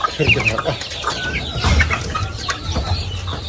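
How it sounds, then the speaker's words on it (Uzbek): Busy farmyard fowl sounds from Dakan roosters in Namangan, Uzbekistan, with clucking and short calls from a rooster and hens overlapping continuously over a low background rumble. "Mana shu xo'roz chista."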